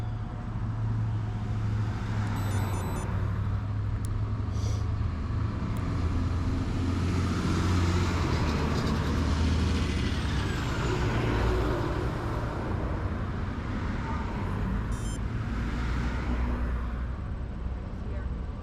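A truck and cars idle at a traffic light during a September bicycle tour, a steady low engine rumble and road noise filling the scene at close range, with a few faint higher clinks and no clear talk.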